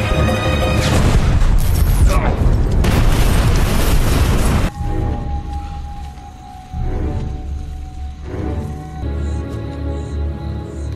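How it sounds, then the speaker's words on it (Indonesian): A movie scene where a soldier shoots a sniper in the head opens with a loud, dense burst of gunfire and booming blasts, then cuts to quieter, rumbling scene ambience with faint tones. "langsung saja Brandon menembak kepalanya hingga ia tewas"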